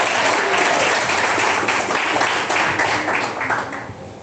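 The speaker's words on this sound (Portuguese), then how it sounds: "Quem bate palmas?" A church congregation claps together in steady applause during a worship service, loud and dense at first and thinning slightly toward the end, with no voices on top.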